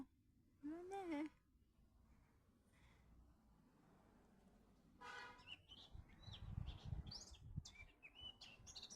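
Birds singing in a tree outside a home in June, bright chirps and warbling phrases in scattered bursts, fairly close, with a person speaking softly in between.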